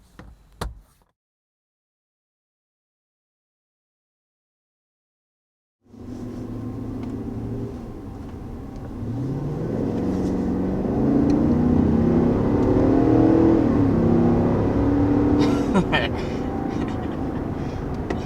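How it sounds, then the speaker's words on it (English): After several seconds of near silence, the 2021 GMC Yukon Denali's V8 swells into a steady, deepening rumble as the SUV accelerates hard toward 60 mph, growing louder and holding strong to the end. "And as quick as that, you're up to 60 miles per hour."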